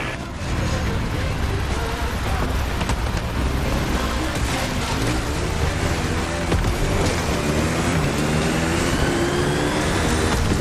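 A Kawasaki KX450 dirt bike engine in the racing game The Crew Motorfest revs and shifts, its pitch climbing and dropping in repeated sweeps, loud and continuous under game ambience.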